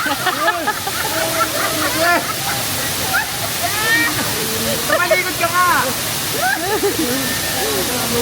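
Spring water at Bato Springs in Quezon flows and splashes continuously in a loud, steady rush, with voices talking and calling over it throughout.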